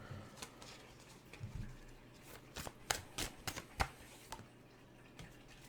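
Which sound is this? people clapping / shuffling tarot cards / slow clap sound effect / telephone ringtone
shuffling tarot cards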